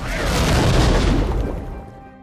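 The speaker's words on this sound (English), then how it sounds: "an explosion occurred which destroyed the rubber boat" A single loud explosion blasts apart a rubber boat after a plane crash, a deep close boom that rolls on and fades over about two seconds.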